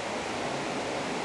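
An indoor waterfall display at the Guinness Storehouse gives off a steady, even rush of falling water, soft and continuous.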